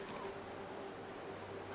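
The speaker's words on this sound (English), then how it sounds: "Okay, it's too windy out here right now." Wind blowing outdoors in the survival game The Long Dark, a steady, soft, broadband rush with no gusty peaks, heard alone at low volume.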